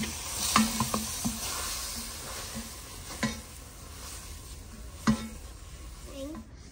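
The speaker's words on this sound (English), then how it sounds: "Okay, mix it in." A spoon stirs vanilla into sticky melted marshmallows for crispy rice treats, giving soft scraping and a few sharp knocks against the pot, with a faint background hiss.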